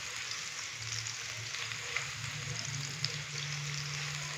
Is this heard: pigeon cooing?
no